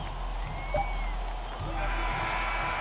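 Simulated arena crowd in the NBA 2K25 basketball video game, a steady wash of cheering and clapping at moderate volume under game audio, with a few brief whoops rising from the noise.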